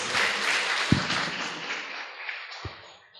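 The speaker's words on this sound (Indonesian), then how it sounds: "tepuk tangan untuk Bapak Bri GS." Applause from an audience at an Indonesian cultural talk, a steady wash of clapping that starts loud and gradually thins and fades over about three seconds.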